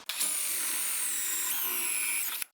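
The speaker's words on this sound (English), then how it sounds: "what I'm going to start doing now is just drill the rubber out" A power drill boring out rubber on a 1978 Silver Anniversary Corvette during restoration, a loud steady high-pitched whine held for about two seconds with a brief pitch shift midway and a sharp stop.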